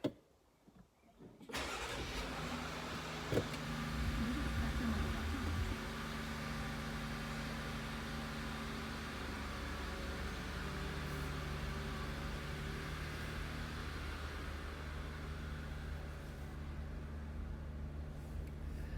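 A 2021 Jeep Gladiator base model with push-button start cranks and fires from a relatively cold start, then settles into a long, steady high idle that drones evenly on its own.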